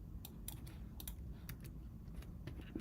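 Keystrokes on a newish full-size Apple computer keyboard, a close, quiet run of irregular clicks and taps with no talking.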